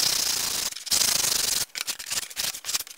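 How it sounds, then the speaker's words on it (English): Hand sanding of Damascus Micarta sunglasses: steady broadband abrasive rubbing strokes, close and fairly loud, broken by a short pause and then quicker, choppier strokes toward the end, with no talking. "Yeah, I gotta sand it."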